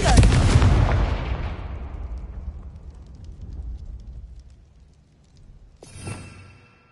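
A loud fiery spell explosion from the Hogwarts Legacy game booms up close and rolls away into a long rumbling decay, with a second sharper crack and smaller burst near the end.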